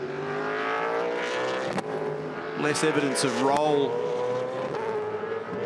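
V8 Supercars race cars at the 2015 Ipswich SuperSprint roar loudly through turn 1, engines droning with rising and falling revs as several cars pass, with a commentator talking over the engines throughout.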